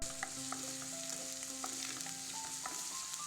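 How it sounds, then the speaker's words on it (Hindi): Onions sizzle in mustard oil in a hot iron pan, a steady, fairly quiet crackling fry with faint clinks of stirring and a soft tonal hum beneath, no voices. "कनी काल प्याज के भूजबै।"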